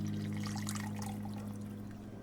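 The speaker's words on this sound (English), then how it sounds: "pour this in the bowl that will be used for serving" Hot and sour rice noodle soup liquid pours steadily from a pot into a serving bowl with a small base, a continuous close splashing trickle over a low steady hum.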